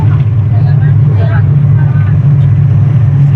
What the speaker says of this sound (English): We're now on the bus.